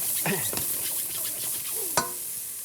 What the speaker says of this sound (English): Always onion first, garlic second. Stir it all around.